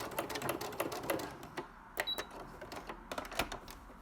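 A sewing machine runs short bursts of back stitching while sewing a French seam with a vent, with rapid, fairly quiet stitching that stops and starts across the clip.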